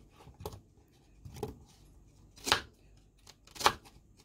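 A knife slices a raw onion very thinly on a board for an oven-baked bass and vegetable dish: four quiet, evenly spaced cuts about a second apart, close by, with no talking.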